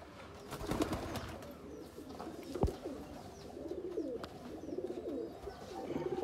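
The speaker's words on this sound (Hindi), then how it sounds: "ओल्ड ब्लड लाइन के कबूतर हैं" Sialkoti breeder pigeons of an old bloodline coo softly in repeated low, throaty calls, close by, with a few flaps and scuffles among them and no speech.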